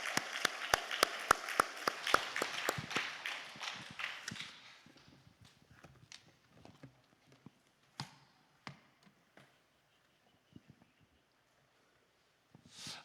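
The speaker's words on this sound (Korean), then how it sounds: "우리 하나님께 감사와 영광과 박수를 시기 바랍니다." A congregation at a fasting prayer retreat applauds, with dense clapping for the first few seconds that thins into scattered, fading claps and taps, followed by near silence and one last soft clap.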